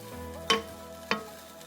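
Garlic cooking in a pan for a quinoa chili, a steady low sizzle with two sharp scrapes of a utensil stirring it.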